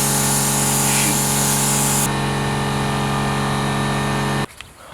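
A spray gun sprays paint onto a Toyota Tacoma bumper with a loud, constant hissing blast that holds steady for several seconds, shifts in tone once, then cuts off abruptly.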